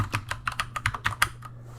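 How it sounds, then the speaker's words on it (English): Quick bursts of typing clatter on a computer keyboard in a short, close, uneven run of about a dozen keystrokes. "Type heading. Hit enter. Type in recording schedule."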